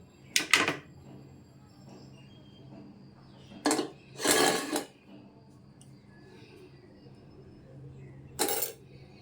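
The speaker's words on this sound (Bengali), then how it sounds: "ছানা থেকে জলটা ঝরে গেছে। তো এবার একটা থালায় ফেলে দিচ্ছি।" Drained chhana, the soft cottage cheese made for malai sandesh, drops onto a plate in a few brief soft thumps and scrapes, heard close up, with quiet pauses between them and no talking.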